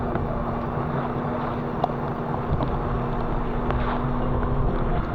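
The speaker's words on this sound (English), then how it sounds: "The winds within the squall were gusting up to 38 knots." Strong wind from a squall at sea, gusting to 38 knots around a sailing boat, roars as a steady, loud broadband rush with buffeting on the microphone, alone with no voices.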